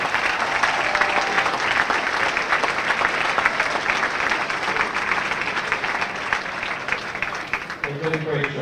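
A luncheon audience gives a sustained round of applause for the Walpole boys and girls hockey teams, with steady dense clapping filling the room and a few voices rising near the end.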